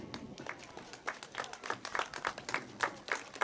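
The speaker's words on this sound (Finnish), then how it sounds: "hei, annetaan aplodit" An outdoor crowd at a Finnish river rowing event claps for arriving war veterans, a steady patter of many hands, moderately distant, swelling in uneven bursts.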